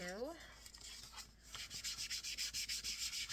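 An ink pad is rubbed across paper to color a craft pocket, producing a quiet scratchy scuffing that settles into a rapid, regular series of short strokes after a brief tonal chirp at the start.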